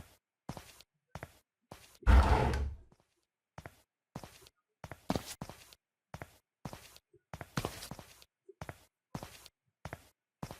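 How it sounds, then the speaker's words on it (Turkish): Footsteps of a man in the stealth video game Sneak Thief, a steady run of short, fairly close steps with brief pauses, plus one louder rushing burst early on. "Ayak sesi çok yakından geliyor ama"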